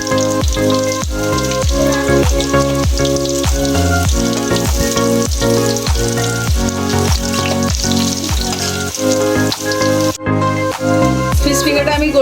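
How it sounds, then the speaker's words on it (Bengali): Fish fingers fry in hot refined oil in a kadai, giving a loud, dense, continuous sizzle broken by regular clattering stirs and scrapes of a utensil against the pan. "তেল গরম হয়ে গেছে। এবার আমি ফিশ ফিঙ্গার ছেড়ে দিচ্ছি।"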